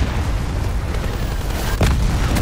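Hellstorm missile strikes in Call of Duty: Black Ops 4 rumble as a loud, continuous barrage of deep explosions, with one sharper blast standing out near the end.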